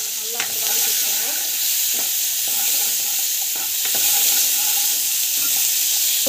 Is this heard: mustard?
yes